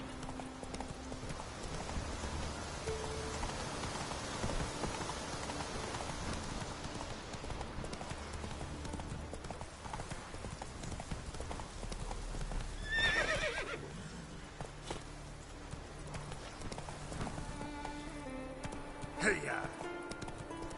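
Roach, a horse in The Witcher 3, gallops with steady rhythmic hoofbeats, whinnies and neighs at moments, while a person talks over the game sound.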